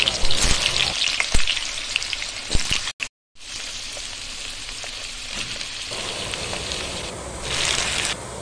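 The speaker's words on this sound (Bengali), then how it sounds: "কড়াইয়ে সর্ষের তেল দিয়ে আলু ও পটলগুলো দিয়ে দেব।" Potato and pointed gourd pieces frying in mustard oil in a wok: a bright crackling sizzle with sharp pops, briefly cut to silence, then a steadier, softer frying hiss that swells again near the end, nobody talking.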